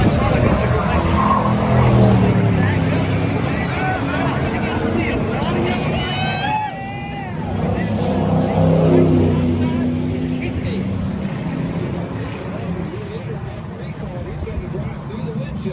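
Race cars jostle with heavy contact through the bus stop chicane in the 24 Hours of Lemons endurance race, a steady loud engine drone with brief tire noise running beneath continuous commentary.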